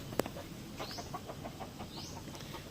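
A rooster of a Chinese chicken breed gives soft clucks and short calls in a farmyard, with a sharp click near the start and faint rising chirps behind.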